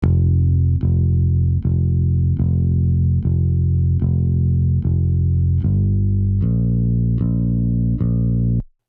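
A bass guitar recorded direct in, steady loud notes struck about every 0.8 seconds with a low sustained tone, shifting pitch near the end, played alone without voices.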